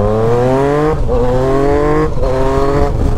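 Yamaha MT-09 Tracer motorcycle engine with an Atalla 3x1 stainless steel exhaust, loud and close, revving up through gears with rising tones and two short shift breaks.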